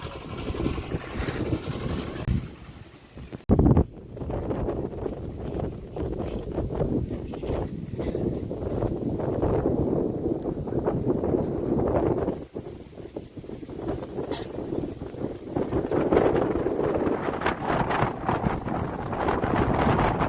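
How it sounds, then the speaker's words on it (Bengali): Strong, gusty wind buffets the microphone in the Sundarbans with a continuous loud roar, briefly dropping out and returning, with no talk. "ঝোড়ো হাওয়া বইছে"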